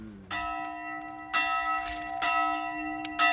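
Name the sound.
three church bells ringing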